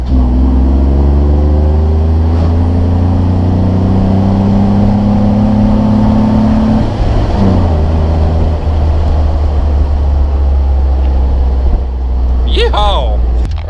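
A Jeep JK Wrangler on 40-inch tires with a throttle controller accelerates on a small street, its engine humming loud and steady with a tone shift partway through, with brief higher whines near the end.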